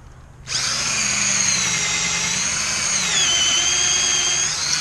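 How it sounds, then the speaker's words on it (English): An electric drill spins up suddenly and whines steadily while boring holes in wooden fence boards, the pitch dipping briefly under load partway through, loud and close with no talk. "I'm going to have to do this with my electric drill because these battery operated hand drills won't last that long"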